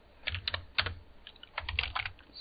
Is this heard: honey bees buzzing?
no